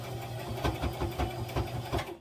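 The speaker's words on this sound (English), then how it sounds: "So I'm just going to sew this to the lining, and I'm going to leave a space." Sewing machine stitching a satin belt to a velour lining, running in a quick, even chugging rhythm of close mechanical pulses, heard alone and fairly quiet.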